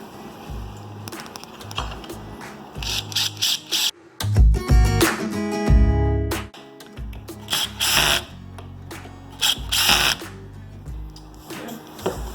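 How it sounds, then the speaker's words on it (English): A power drill whirs in short bursts up close, with a longer grinding run as a Phillips head screw is driven into an IKEA Sektion base cabinet, amid clicks and handling noises. "And again, I'll be just using my drill."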